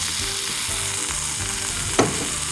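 Garlic sizzles in oil in a pan: a dense, continuous frying crackle and hiss, close and steady, with a short sharp clink near the end and no talking.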